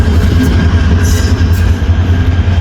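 A train at a station gives off a steady, loud low rumble and mechanical hum, with no voices over it.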